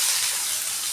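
Green chillies and onion crackle in hot oil with cloves, cinnamon and bay leaf, a short burst of loud, close, continuous sizzling.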